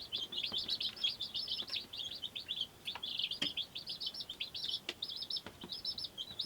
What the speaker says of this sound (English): They're all chirping.